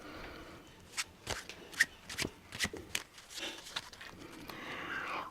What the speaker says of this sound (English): I get paid the big bucks just to shuffle cards.